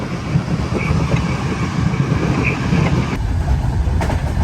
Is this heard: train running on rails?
yes